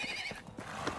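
A horse in the Medieval Dynasty video game gives a loud whinny while hooves clip-clop in a quick rhythm, all close and clear without talk.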